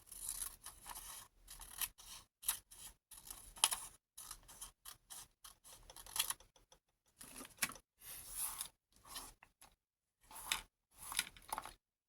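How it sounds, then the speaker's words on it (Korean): Scissors snipping folded paper for a paper hanbok craft, a quiet close series of short crisp cuts in uneven bursts with small pauses between them and no talking. "여기에 맞춰서 가위로 잘라주세요."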